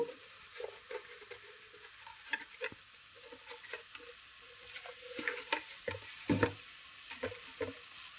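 An eggplant and chana dal curry is stirred in a pan, with soft irregular scrapes and wet pattering, faint sizzling and a low background hum, close but quiet.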